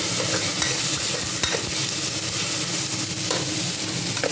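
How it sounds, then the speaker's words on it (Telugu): Ginger garlic paste frying with onion and tomato in a pan for mutton curry, a loud, continuous close sizzle with occasional stirring scrapes, no voices. "1 స్పూన్ నిండా అల్లం వెల్లిపాయ పేస్ట్ వేసి, అల్లం వెల్లిపాయ పేస్ట్ పచ్చివాసన పోయినంత వరకు వేయించాలి"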